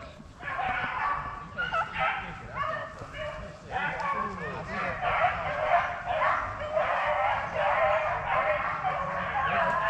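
Beagle hunting dogs baying and yipping continuously during a rabbit hunt in North Carolina, several dogs overlapping at mid distance, with a voice calling out among them.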